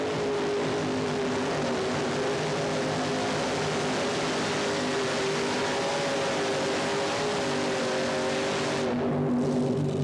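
A 1988-89 Red Man series racing boat powered by three Chrysler Hemi engines roars continuously at a distance, a steady heavy drone lasting throughout and easing slightly at the very end.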